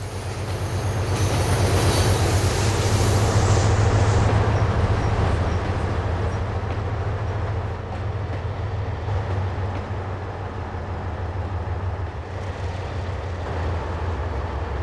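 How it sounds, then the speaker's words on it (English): The smallest Dutch railways locomotive, a small shunter with outside controls, runs in the Trainz railway simulation game. It gives a loud, steady rumble with wheel and rail noise that eases slightly partway through. "According to me, this is the smallest locomotive of the Dutch railways."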